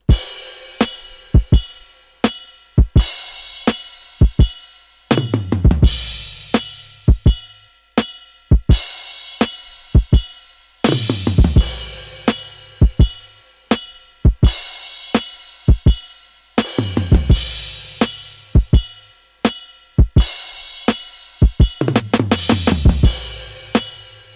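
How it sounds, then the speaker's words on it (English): A hip-hop drum beat of kick, snare, cymbals and tom plays alone in a steady, looping groove, with punchy low hits, crisp cymbal wash and occasional tom fills recurring every few seconds. "So whenever I have my drums, it sounds like this."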